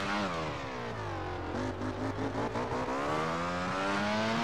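Ducati motorcycle engine in the MotoGP 13 racing game, a continuous droning rev that rises and dips as the bike accelerates and shifts, steady and prominent with no talk over it.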